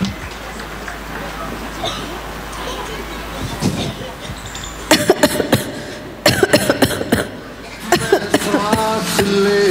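A child coughs several times in quick bursts during a kindergarten annual function stage performance, amid spoken lines and audience murmur.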